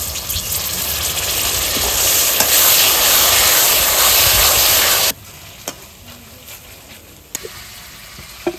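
Ginger, garlic and green chili paste hits hot oil with onions for chicken maharani, giving a loud, steady sizzle for about five seconds before it drops to a quieter hiss with a few sharp spatters.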